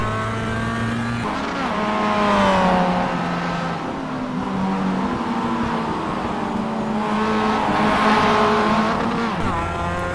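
Mazda MX-5 race car in iRacing at Bathurst, its engine buzzing loudly and steadily as it downshifts and brakes through the Dipper, revs dropping then climbing again, with faint tire squeal.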